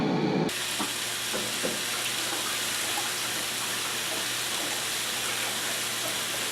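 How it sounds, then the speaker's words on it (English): Sous vide steaks sear in a hot pan with a loud, steady hiss and crackle that holds evenly throughout, opening with a brief burst as the meat first hits the surface. "I'm going to sear them."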